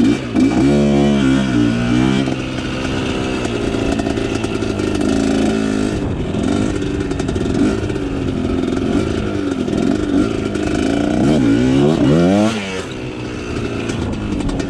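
A KT250 trials motorcycle engine revs and bogs as the bike climbs over a log, its rear tire spinning. Loud, close, uneven throttle bursts rise and fall with clattering between them.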